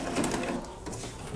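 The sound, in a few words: HP 7110 printer pump suctioning during head cleaning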